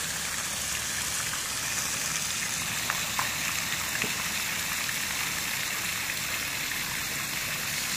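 Waste water pours from a contaminating tank toward the Cañaveral river in Siloé, a steady broadband rush and trickle that continues without pause, fairly close, with no talking.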